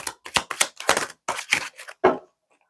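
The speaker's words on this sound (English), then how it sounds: "One more shuffle." Tarot cards being shuffled by hand: a quick series of crisp, papery riffling bursts, close and fairly loud, that stop abruptly near the end, leaving a short quiet tail.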